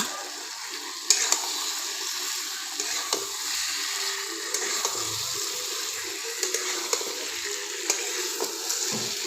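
Fried potatoes are stirred into chicken cooking in a pan on an electric heater, with a constant close sizzle broken by scattered spoon scrapes and knocks.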